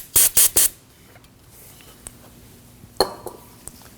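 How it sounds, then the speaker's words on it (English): Aerosol brake parts cleaner sprays in three short, sharp hissing bursts, close by in a garage during a valve cover gasket job on a 2003-2006 Subaru Baja 2.5L H4, followed by faint clinks and handling noises. "Now I'm going to use some brake parts cleaner and a rag."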